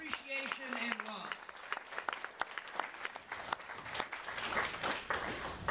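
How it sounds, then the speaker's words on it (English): An audience breaks into sustained applause with dense clapping, briefly overlapped at the start by a voice at a political event. "Let's give Terry Carey another round of applause and appreciation and love."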